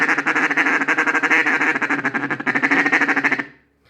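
A duck call is blown fast and hard in a competition feed call, a dense rapid stream of short raspy quacking pulses, loud and close, ending abruptly into silence.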